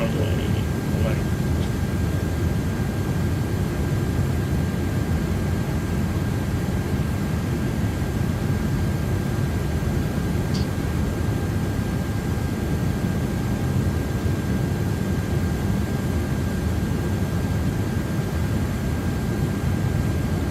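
Airbus A330 engines in a flight simulator video game, a steady, loud broadband roar with low rumble holding evenly throughout, no pauses, alone with no voices.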